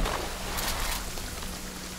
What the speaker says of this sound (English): What did it have to start raining for?